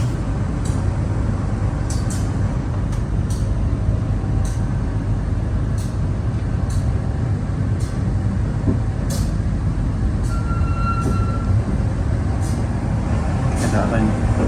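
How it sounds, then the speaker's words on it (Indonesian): A CC201 diesel locomotive on an Indonesian railway line near Sepanjang station gives a steady, loud low rumble with mechanical hum throughout, along with scattered brief clicks and an airy hiss, while voices speak over it. "Nah, ini ada lokomotif"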